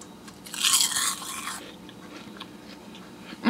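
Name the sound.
biting and crunching a crispy wasabi soy kale chip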